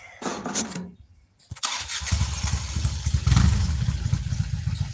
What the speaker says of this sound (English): There he goes on his Harley. Nice throaty sounding bike.